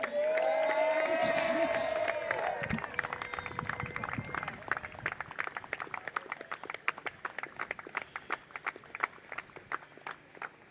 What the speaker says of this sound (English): let's hear another round of applause for the champions